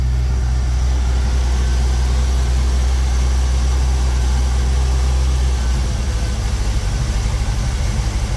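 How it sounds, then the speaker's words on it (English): A Chevrolet-style 327 V8 with carburetors idling steadily at around 1100 RPM, a loud constant low rumble that drops slightly in pitch partway through as the idle comes down a couple of hundred RPM. "it idled down a couple of hundred RPM at least"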